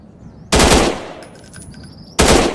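Gunfire in a first-person shooter video game: two loud, sharp bursts of rapid shots separated by a short gap with faint clinking game sounds between.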